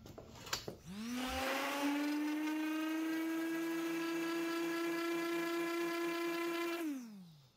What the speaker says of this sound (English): all you have to do is sand it